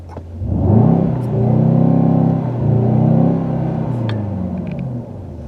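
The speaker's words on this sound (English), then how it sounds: "here's the button to make the exhaust louder if you want" A 2021 Mercedes-AMG E63 S sedan's exhaust rumbles deep and close, swelling into a short rev, then settling into a steady, throaty idle with a couple of small clicks near the end.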